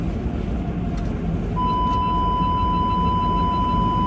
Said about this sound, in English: So we're in the car wash right now.